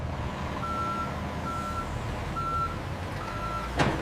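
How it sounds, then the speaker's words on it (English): A truck reversing at a distribution center sounds four evenly spaced reversing beeps over a steady engine rumble, heard from a moderate distance, followed by a short knock. "The trucks arrive at the distribution center, ready to unload."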